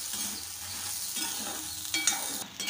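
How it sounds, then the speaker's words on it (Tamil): Red chillies and salt dry roasting in a pan while being stirred, a close scraping and stirring sound over a light crackle, with a sharper clatter near the end and no voices. "மிளகாயை வந்து லைட்டாக நம்ம ரோஸ்ட் ஆகிற வரைக்கும் வறுத்துட்டோம்"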